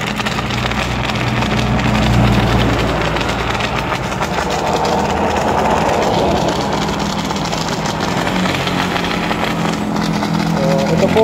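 A fully automatic foaming machine spraying foam hard, a dense steady rushing hiss with a low engine drone underneath, close and loud, with no talk.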